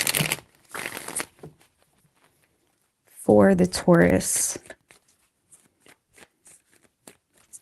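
Tarot cards are shuffled in quick papery bursts, with soft ticking taps between, while a person speaks briefly in the middle.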